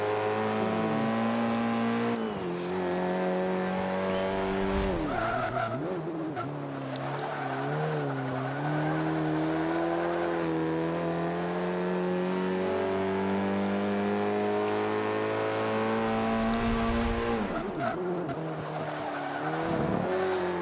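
Ford Focus race cars howl through a front-wheel-drive C-class race in Forza 5, a loud sustained engine drone shifting pitch through gear changes, with tire squeals and skids along the way.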